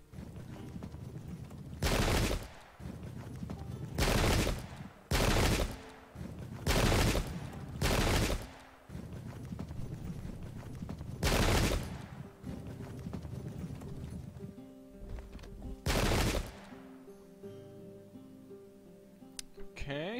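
Musket volleys from the Pike and Shot video game, set in the English Civil War, crack out as a string of loud broadband bursts, some single and some grouped, across a battle din with light hoofbeats.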